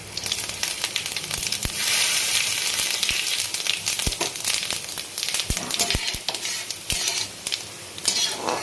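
Dried red chillies, bay leaf, cinnamon and cardamom frying in hot oil in a pan, a continuous loud sizzle broken by frequent sharp clicks and scrapes of a spoon stirring against the metal.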